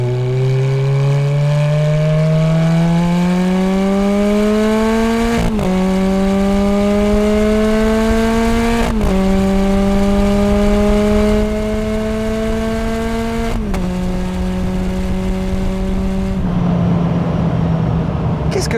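Ferrari F430 sports car engine pulling hard while driving, rising through the revs in long sweeps broken by four quick gear shifts, loud and close, with no one talking.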